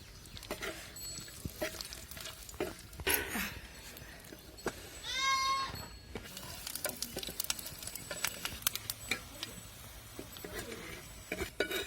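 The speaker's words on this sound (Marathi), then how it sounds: "मस्त खोबरं पण कापून घेतलेले आणि आता भाजून घ्यायचं" Sliced coconut roasts in a pan on a wood-fired stove, a soft crackle and intermittent stirring scrapes, with a goat bleating nearby partway through and faint outdoor background.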